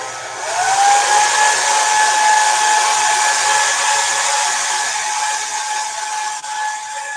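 A hair dryer runs loud and steady at close range, its whine holding an even pitch as it dries wet paint on a springtime blossom painting.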